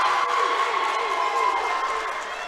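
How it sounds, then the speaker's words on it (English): A home crowd at a women's college volleyball match roars with steady, loud cheering and yelling that fills the gym and eases slightly toward the end. "Gets the home crowd fired up over there"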